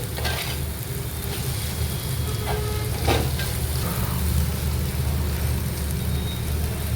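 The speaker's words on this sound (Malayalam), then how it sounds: "ഇനി ഇതിലേക്ക് കുറച്ച് കറി ലീഫും ഒരു 2 ഗ്രീൻ ചില്ലിയും കൂടെ ഞാൻ ആഡ് ചെയ്തു." Curry leaves and green chillies sizzle in oil with softened onions in a pan for Kerala prawn roast, a loud, continuous close-up crackle with a few brief scrapes of stirring, and no voices.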